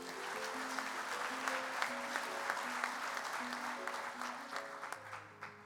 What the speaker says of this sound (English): Join me in giving this year's 4-star individual sponsors another round of applause.